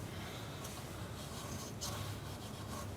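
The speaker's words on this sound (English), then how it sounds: "I'm going to spot sand that. I'm just going to sand it like this without spinning the piece." Hand sanding a small groove on a wood-turned piece, with the piece held still rather than spinning; a soft, continuous close rubbing and scratching hiss that stays steady throughout.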